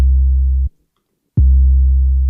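Two long, deep booming 808-style kick drum sample hits sustain with a steady low tone, separated by a brief silence, loud and clean.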